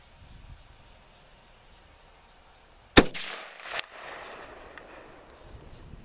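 A single sharp, loud gunshot from a Remington 03-A3 rifle, heard alone against quiet outdoor background, with a brief fading echo afterward.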